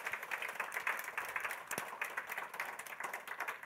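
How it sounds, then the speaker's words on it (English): Audience applause for a panel of four at an evening Q&A event on voting in Auckland, a fairly faint, steady patter of many hands clapping, sustained without a break. "a massive round of applause"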